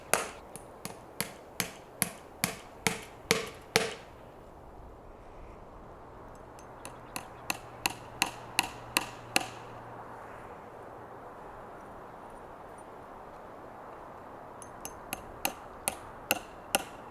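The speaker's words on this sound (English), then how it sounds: "hammering in fence staples along the line posts" Fence staples driven into wooden line posts with a hammer outdoors on a ranch, sharp rhythmic strikes in steady bursts of roughly a dozen blows, then a pause with a distant aircraft drone before a few more hits.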